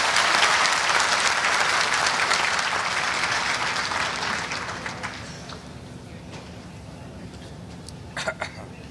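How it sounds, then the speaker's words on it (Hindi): A large audience at the opening of an Ashok Leyland electric vehicle plant in Uttar Pradesh applauds loudly to welcome the chief minister. The clapping starts dense and strong, then thins and fades over several seconds, with a few scattered claps at the end. "जोरदार तालियों से स्वागत।"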